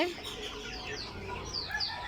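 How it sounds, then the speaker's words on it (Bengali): Quail chicks in a small brood, with a few young chickens kept alongside, give thin, high chirps and peeps in scattered bursts over a low background murmur, close to the microphone. "এই যে আমাদের কোয়েল পাখির বাচ্চাগুলা মাশাল্লাহ অনেক বড় হয়েছে"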